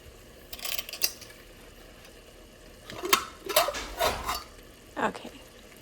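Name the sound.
opening a pressure cooker of cooked chickpeas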